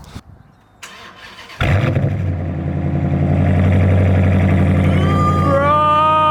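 A 2016 Dodge Challenger R/T with a manual gearbox and a muffler delete cranks briefly, then catches and settles into a loud, rumbling idle that swells near the end with a few higher whines.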